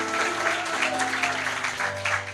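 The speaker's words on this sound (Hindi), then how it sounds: "जोर से ताली बजा सकते हैं यीशु के लिए" A congregation at a church service claps loudly and continuously for Jesus, a dense wash of hands with steady loudness and music or a hum sustained underneath.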